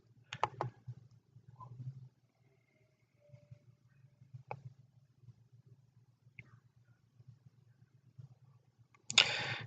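Mouse clicks on a computer while working through software, a few sharp isolated clicks spaced apart over a low steady hum, with a louder burst of clicking and rustle at the end.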